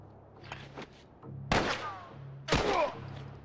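Gunfire in The Last of Us Part 1, heard as two loud, sharp shots about a second apart, each with a ringing tail, over a low steady hum.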